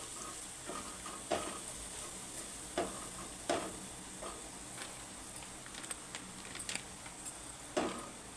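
Masala egg curry being stirred in a pan, with a low sizzle under periodic spoon scrapes and taps, close and fairly quiet, no talk.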